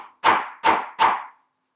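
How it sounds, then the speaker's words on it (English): Three sharp metallic strikes from a small jewelry hammer flattening a metal charm on an anvil, evenly spaced about a third of a second apart, each loud and close with a short ringing decay. "So I've got my little jewelry hammer here, and I'm just going to hit it a few times"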